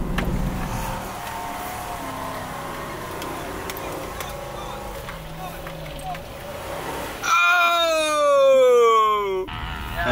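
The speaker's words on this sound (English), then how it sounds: "Oh, look at that geo tracker. Go, tracker, go." Geo Tracker engine revving hard while driving through thick sand dunes, a steady motor drone rising into a loud, sweeping high-pitched rev near the end, with people talking over it.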